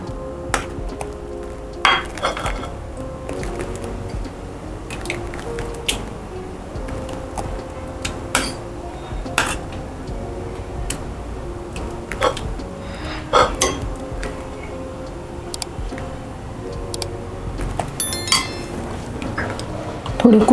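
Egg curry is spooned out of a pan onto a plate, with repeated light clinks and scrapes of a metal spoon against cookware and dishes, close and steady throughout without speech.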